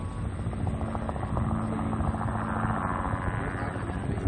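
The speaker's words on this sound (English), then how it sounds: "this helicopter's been recording now. It's really low." Low, throbbing rotor chop of a helicopter passing close overhead, a steady loud drone with rapid pulsing beats.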